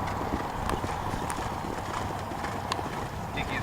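Horse hooves pounding turf during polocrosse training, a rapid drumming gallop close by with faint thuds and brief clatters, under light background noise.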